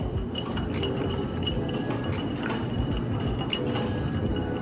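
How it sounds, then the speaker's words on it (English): A bar spoon clinks lightly against a glass while a bourbon cocktail is stirred, with irregular small taps over a steady background hum and no talking. "Stir them all up."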